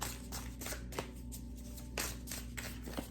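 Tarot cards being shuffled by hand close up, repeated riffling and sliding bursts with soft slaps at a steady rhythm over a low background hum, no talking.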